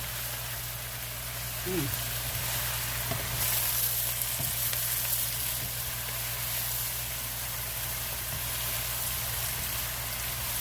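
Casserole ingredients stirred with olive oil in a pan while chicken and rice casserole is made: a constant, even frying hiss with a low hum and faint scrapes, and a voice talking softly over it at times.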